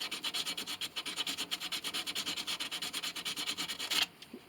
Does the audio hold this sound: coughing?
no